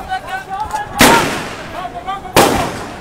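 Aerial gunfire during a street clash between police and political party supporters at Numaish Chowrangi in Karachi: two loud, sharp shots about a second and a half apart, close by, with crowd voices and shouting underneath.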